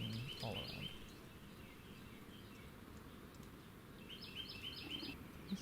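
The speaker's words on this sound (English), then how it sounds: "the quite loud Carolina wrens and northern cardinals that you can hear singing all around." Carolina wrens and northern cardinals sing in repeated bursts outdoors in Texas Hill Country, moderately distant, with a soft voice speaking through the calls.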